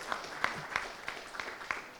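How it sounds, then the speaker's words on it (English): Scattered, fairly faint clapping from a conference audience after talk-show speakers finish, a few distinct claps spread across a couple of seconds. "please give a big round of applause to all of our speakers"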